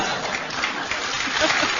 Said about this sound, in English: Why do you always clap when they're rude to me?